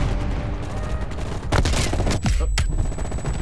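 Rapid gunfire bursts in Call of Duty Black Ops Cold War on PS5, sustained close automatic shooting with sharp louder shots near the end, faint voice underneath.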